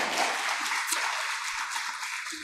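Church congregation applauding after a sung prayer: a steady wash of clapping hands, moderately loud and sustained, with no voices over it.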